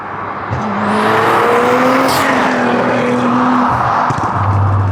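A Litchfield Stage 4.25 Nissan R35 GT-R accelerating hard in second gear, a loud, close engine drone climbing steadily in pitch with rising whine over a rough roar, then easing near the end.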